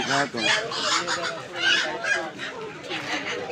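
Chickens at a poultry market cluck and squawk loudly and close by in a busy, overlapping stream, with voices talking in the background.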